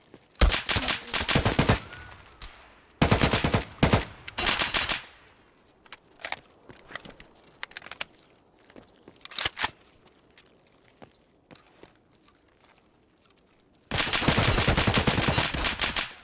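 Gunfire in the shooter game Escape from Tarkov: dense automatic bursts at the start, around three to five seconds, and again at the end, with scattered single shots and quieter rattles between.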